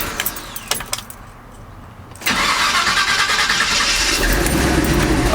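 A Chevy truck engine cranks and catches after a couple of seconds of faint clicks and rattles, bursting into a loud, steady idle rumble that holds close and strong to the end.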